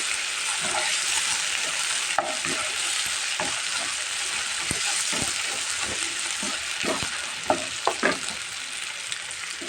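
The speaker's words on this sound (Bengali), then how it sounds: "আদা রসুনটা দিয়ে দিলাম আদা রসুন রসুনটা একটু ভেজে নেব ভালো করে যাতে কাঁচা গন্ধটা চলে যায়" Ginger and garlic fry in hot oil, a dense continuous sizzle up close with scattered clicks and scrapes from a spoon stirring the pan, louder taps toward the end.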